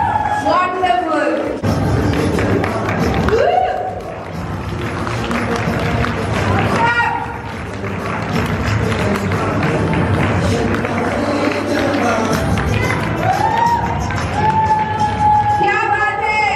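A Women's Day celebration crowd cheering and clapping loudly, with sustained applause and shouts filling the clip while a presenter speaks over the noise.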